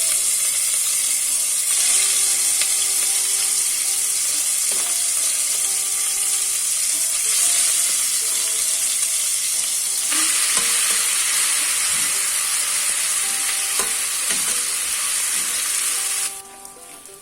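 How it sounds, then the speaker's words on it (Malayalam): Chicken pieces frying in hot oil, a loud, steady sizzle sustained for the whole stretch, with scattered small taps and scrapes before it drops away abruptly at the end. "എണ്ണ ചൂടായി. ഇനി നമുക്ക് ചിക്കൻ ഓരോന്ന് ഇട്ട് കൊടുക്കാം."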